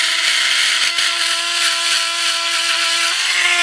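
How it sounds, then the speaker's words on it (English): A worn chainsaw sharpener runs at a steady, loud high whine with its bearings rattling, a constant motor tone with brief dips and no talking. "this one here is wore out. I mean, the bearings is rattling in it."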